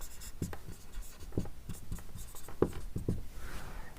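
Someone writes a math solution by hand, with a pen scratching and tapping on paper in short irregular strokes. The sound is close and quiet.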